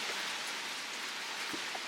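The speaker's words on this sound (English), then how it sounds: "But it's raining so hard." Heavy rain pours steadily in the countryside, a dense, continuous hiss of drops pattering on surfaces with no voices, just the even roar of the downpour close by.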